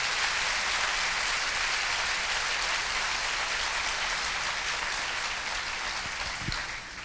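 A church congregation applauds during a Sunday morning sermon, a steady wash of many hands clapping, even and sustained throughout, then easing slightly at the end.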